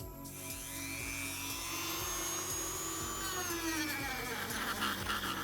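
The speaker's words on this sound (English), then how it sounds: "Even though I'm using a Dremel now," A Dremel rotary tool grinds through pipe while making a boffer sword, giving a steady high whine with rising and falling pitch that runs continuously and close for several seconds, with no talking.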